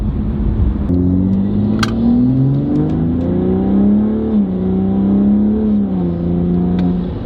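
A tuned BMW M340i with a downpipe tune accelerates hard from inside the cabin, its engine drone climbing steadily and dipping briefly at gear shifts before pulling upward again, loud and continuous with no talk.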